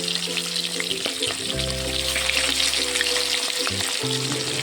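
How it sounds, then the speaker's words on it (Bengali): Pieces of fish fry in a small amount of oil in a home kitchen, giving a steady, close sizzle with a low hum running underneath, and no talking. "তো এই জন্য আমি একটু সাবধানে অল্প তেলেই ভাজছি।"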